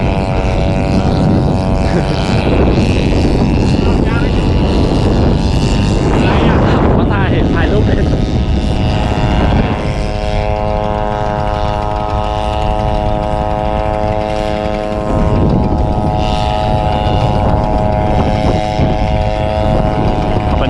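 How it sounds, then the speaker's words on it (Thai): A walking tractor's small engine chugs loudly and continuously up close, its drone shifting pitch midway as it revs, with no pause throughout. "เป็นรถไถเดินตามนะครับ ที่บ้านผมนะครับเรียกรถไถเดินตาม หรือว่า รถอีต็อกนะครับ"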